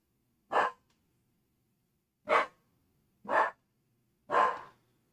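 Four short, breathy dog barks, moderately faint and widely spaced, with one bark, a long pause, then three more at roughly one-second intervals in otherwise quiet surroundings.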